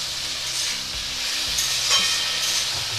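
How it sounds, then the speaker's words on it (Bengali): Potatoes stirred and frying in a pan over a raised gas flame, with a steady close sizzle and hiss broken by soft scraping strokes of a spatula. "অল্প একটু নাড়িয়ে নিচ্ছি।"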